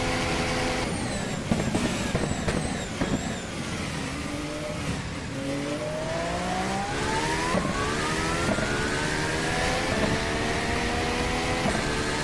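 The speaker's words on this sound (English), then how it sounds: "I don't want to overstress the engine" Formula 1 car engine from the WCP F1 2014 mod for the rFactor racing game, a loud steady whine with pitch sweeping up and down through gear changes and throttle lifts, continuous for the whole stretch with no talking.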